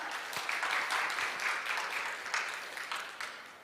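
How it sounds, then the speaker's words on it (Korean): An audience at the 2022 food service industry outlook conference claps to welcome a Woowa Brothers team leader, a fairly soft, somewhat distant patter of many hands that thins out over several seconds. "여러분, 큰 박수로 맞이해 주시기 바랍니다"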